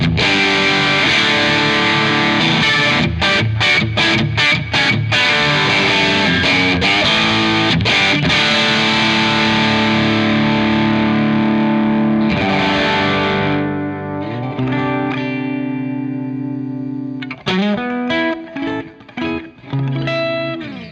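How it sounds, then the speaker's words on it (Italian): Sire Larry Carlton electric guitar played with gain and a split pickup, distorted chords ringing out loud and alone, some rapid strummed bursts, then sustained notes fading before a final run of choppy strums. "Sentiamo il gain con lo split che non l'abbiamo sentito"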